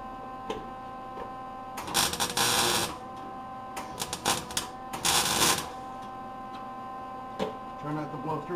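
Welding on an old corn binder, with several loud bursts of crackling, sizzling arc lasting about a second each, separated by quieter gaps over a low hum, close to the mic.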